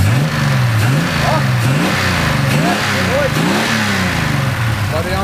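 A naturally aspirated six-cylinder engine in a Chevrolet C10 rat-look pickup, fitted with a Weber carburetor, revs close up in a series of rising and falling blips. The engine is loud and throaty, with occasional voices underneath.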